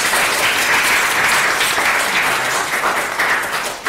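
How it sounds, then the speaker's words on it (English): An audience at a tech meetup panel session gives sustained applause, a full dense patter of many hands that stays strong and fades slightly at the very end. "can we give another round of applause to our panelists?"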